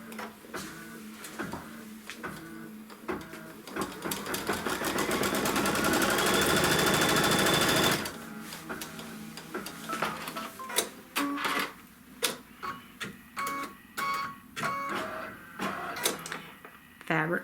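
A machine stitching the seam line on a Kimberbell Wallflower quilt block: a dense, steady run of rapid mechanical stitching that swells for several seconds, then breaks into shorter bursts with pauses between them.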